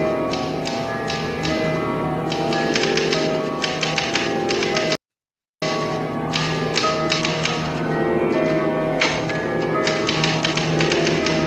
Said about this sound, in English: Just the snapping of the keys.